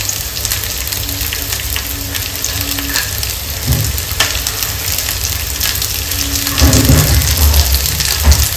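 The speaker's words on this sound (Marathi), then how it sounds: "तर आता यामध्ये आपण टाकूया शिमला मिरची कट करून घेतलेली" Chopped capsicum tipped into a hot pan for chilli paneer, frying with a steady broadband sizzle and occasional stirring scrapes, a louder burst of crackle near the end.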